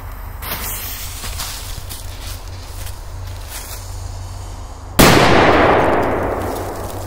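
A powerful firecracker explodes inside a Fanta can in one sharp, loud blast with a ringing, fading tail, after several seconds of quiet outdoor background with faint clinks.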